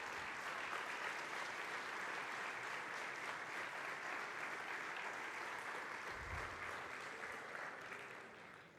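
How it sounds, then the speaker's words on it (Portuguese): Warm, sustained applause from a large audience at the opening ceremony of a dental congress, a steady dense wash of clapping holding for several seconds before tapering slightly at the end. "começamos desta forma muito calorosa com um aplauso à Ordem dos Médicos Dentistas pelos 25 anos."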